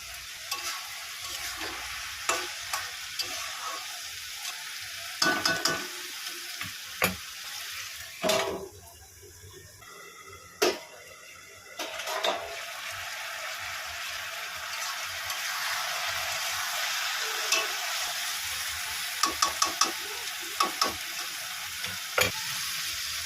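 Chopped potato and slit green chillies sizzle steadily in a pan as part of a pumpkin dish, with intermittent stirring clatters and a few sharp utensil knocks against the pan.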